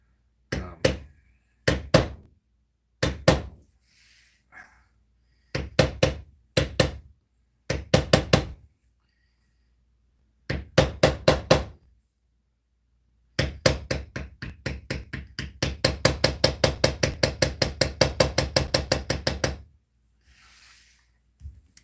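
Mallet blows on a leather stamping tool during thumbprint tooling, sharp knocks in short bursts of two to five, then a long fast run of steady strikes near the end, heard close and alone.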